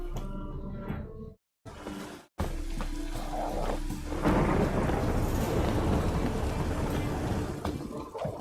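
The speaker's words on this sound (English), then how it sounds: "The storm, damn it." Thunderstorm in The Witcher 3: Wild Hunt, with steady rain hiss and low rolling thunder that briefly cuts out, then swells into a loud, sustained roar of storm and downpour.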